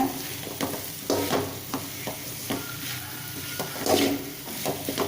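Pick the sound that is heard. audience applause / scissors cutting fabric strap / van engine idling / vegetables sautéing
vegetables sautéing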